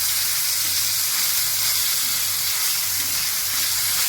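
Green chili, ginger and garlic paste sizzling steadily in hot oil over a low flame while being sautéed for vada pav filling, a continuous close frying hiss with no talking.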